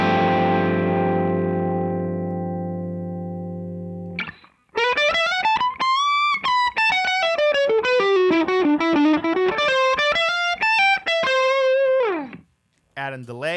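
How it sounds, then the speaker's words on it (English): A loud overdriven electric guitar chord rings out and fades, then a gritty distorted lead line bends and slides through a winding melody. "here is our tone with no effects on, just amp overdrive"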